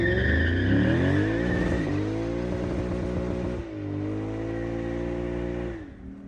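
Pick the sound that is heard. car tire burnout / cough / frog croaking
car tire burnout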